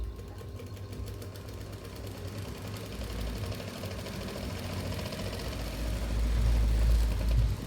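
A sewing machine stitches a lungi in a steady, close mechanical whir with a low motor hum that swells louder toward the end.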